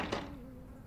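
Flies buzz in a horror video game, a faint, steady droning hum after a soft thump at the very start.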